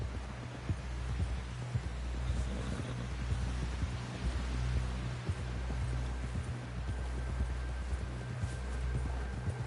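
Horse hooves gallop in Red Dead Redemption 2, a steady low thudding clip-clop running the whole stretch over a constant game ambience, with no voices.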